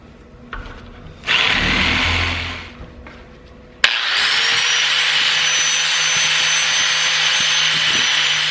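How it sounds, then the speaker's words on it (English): A power saw fitted with a wood blade whines at a high pitch, stops briefly, then starts again with a sharp bite and cuts steadily and loudly through aluminum. "I'm just using this saw, and I got a wood blade on here"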